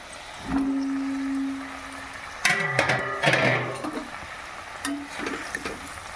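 Brinjal and potato sizzle in a frying pan while a spatula scrapes and clatters against it in several bursts of stirring, with the frying hiss continuing underneath.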